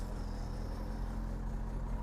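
A truck engine runs steadily at low revs while the truck is moved to clear space, a continuous near rumble with no talk.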